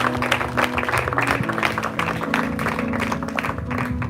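An audience at a Christian testimony gathering claps and cheers in praise of the Lord, a steady wash of applause with scattered shouts over sustained musical tones, lasting a few seconds.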